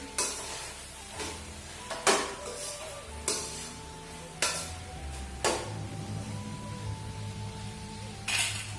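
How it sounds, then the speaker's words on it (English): Raw banana stir fry being stirred in a pan, with several sharp close utensil clinks and scrapes at spaced intervals over a soft sizzle. "Now we'll be adding a little more and give it a stir again."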